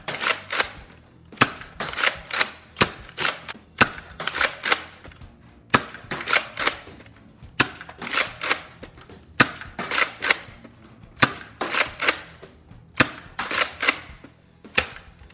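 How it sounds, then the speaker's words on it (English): Nerf Retaliator blaster in stock form, loaded with a green see-through magazine of Elite darts, fires about fifteen sharp snapping shots in a steady rhythm, each shot loud and close, with brief gaps between the cracks. "we're going to start with the Retaliator stock form with the green see-through magazine. Here we go. And these are Elite darts."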